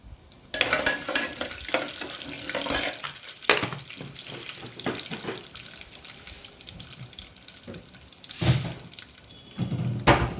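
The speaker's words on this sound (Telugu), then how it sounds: "పోపు బాగా వేగాలి." Crackling, sizzling of mustard seeds frying in hot oil as tempering for upma, with bursts of stirring and scraping, loud at the start and near the end.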